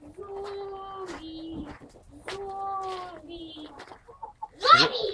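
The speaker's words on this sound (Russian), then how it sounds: "Курочки, курочки, ко-ко-ко-ко." Hens cackle and cluck in drawn-out, tonal calls close by, with a sharper squawk near the end.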